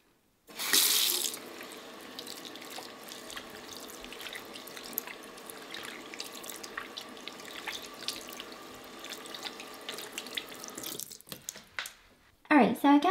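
Tap water runs steadily into a sink for about ten seconds as soap lather is rinsed off hands, with splashing and a sharp burst at the start and small drips and clatter near the end; no one speaks.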